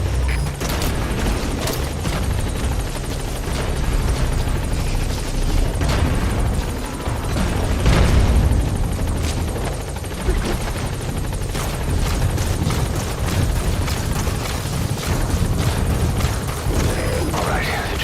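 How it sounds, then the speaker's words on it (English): A helicopter touching down in Metal Gear Solid 5 roars loud and continuous, its rotor chop and engine filling the scene throughout with some heavier swells. "Alright, the chopper's touching down."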